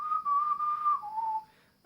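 A person whistles a Brahms motif, the theme from the symphony's opening as it builds to its first climax: one clear, sustained pure tone, then a slightly lower held phrase that fades out near the end.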